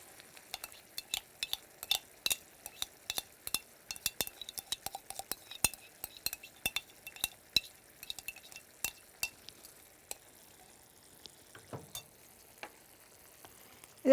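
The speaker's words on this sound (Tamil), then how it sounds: "இது இப்போ ஜென்டலாக இப்போ அப்படியே பப்ளிங் மாதிரி வருது இல்லையா" Tomato paste gravy for vatha kuzhambu, with curry leaves, bubbles and sizzles gently in a pan, giving a close, steady run of sharp irregular pops and spits with no voices.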